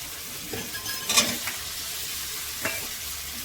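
Cumin, coriander and turmeric powder being stirred in hot oil in a pan, giving a faint continuous sizzle with a few scraping stir strokes, no voices.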